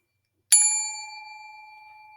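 A single bright bell strike rings out clearly after a brief silence, then its clear tone decays slowly, signalling the start of a Spanish phrase repetition exercise.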